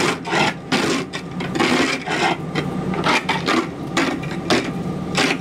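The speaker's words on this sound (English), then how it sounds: "You see that awesome ice scraper he's using?" A Pampered Chef spatula pressed into service as an ice scraper rasps across the frozen windshield of a converted school bus, giving a steady run of close, loud, rhythmic scraping strokes with short pauses between them.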